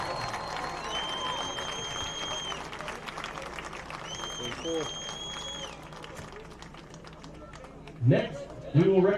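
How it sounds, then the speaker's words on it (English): A crowd at a high school football game applauds the 2023 football seniors, with scattered clapping and crowd noise under a loud amplified announcer, the announcer's voice carrying on throughout. "Let's give the football team a real round of applause."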